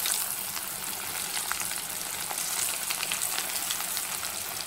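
Taro root (seppankizhangu) pieces fry in oil over a medium flame, giving a steady, close, full sizzle with scattered crackles and pops throughout, no voices.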